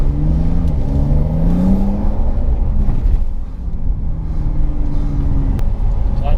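A new Porsche 911 992 accelerates hard from inside the cabin, its engine note rising in pitch through the gears, loud and close, with a brief dip around a shift before climbing again.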